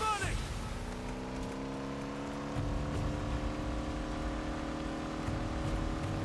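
A game car engine in Uncharted: Drake's Fortune drones steadily with rising and falling revs, loud and continuous throughout a chase.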